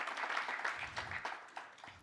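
Scattered audience clapping at a Rwanda Nordic-Baltic forum, a moderate spread of hand claps, fairly faint and distant, with brief bursts rising and thinning out over a couple of seconds.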